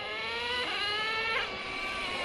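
A Traxxas T-Maxx 2.5 nitro RC truck running, its small engine giving a continuous high buzzing whine that rises in pitch as it shifts gear, fairly close and alone.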